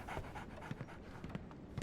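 A dog pants in the video game Sherlock Holmes The Awakened, uneven breathy huffs mixed with a few soft thumps, moderately close and without talk.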